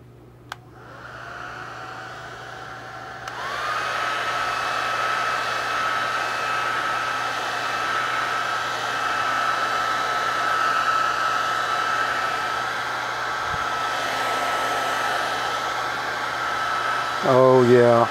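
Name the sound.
hair dryer drying paint on a model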